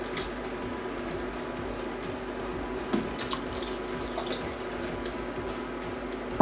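Cold water runs steadily from a tap into a pot of chicken soup with dumplings on the stove, a continuous close splashing pour lasting the whole stretch, with a small clatter near the end and no voices.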